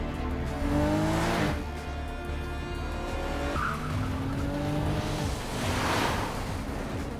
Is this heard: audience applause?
no